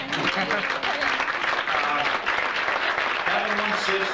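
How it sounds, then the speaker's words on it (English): Wedding guests clapping together in a room, a dense, continuous burst of applause lasting a few seconds with some voices mixed in underneath. "Give an applause for Mary Lynn and for Guillermo there."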